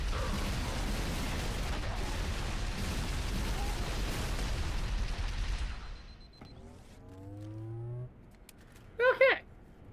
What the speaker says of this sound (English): Oh, he's got a fuel rod cannon. That would explain all the explosions.